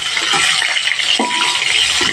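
Snakehead fish, lightly fried in a pan of hot oil, gives a loud, continuous close-up sizzle. A few soft clinks of utensil against the pan come through the steady crackle.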